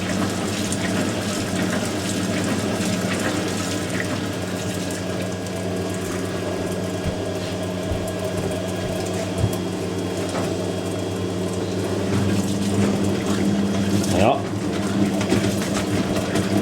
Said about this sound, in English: Proper cold water on there now.